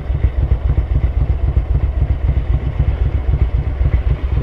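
A Ducati 900SS bevel-drive twin runs on its original exhaust, a loud close lumpy idle with an even pulsing beat and mechanical clatter, steady throughout.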